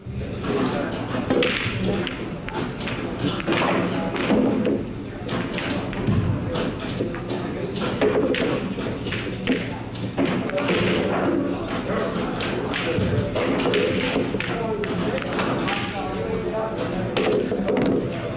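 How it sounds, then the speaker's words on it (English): A pool bank shot on the 5 ball in a league match sends a sharp clack, then thuds of balls hitting cushions and the pocket, over steady room noise and people talking. "This goes for the bank on the 5 ball."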